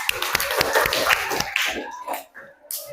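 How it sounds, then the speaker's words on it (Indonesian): A classroom group claps for group 1 with scattered, uneven hand claps that come close together at first, then thin out and trail off near the end. "tepuk tangan untuk kelompok 1"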